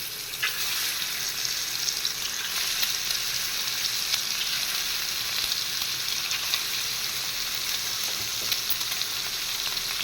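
Eggs fry in a hot pan for an egg roast, giving a steady, close, loud hiss and crackle of sizzling oil that runs unbroken throughout with no talk.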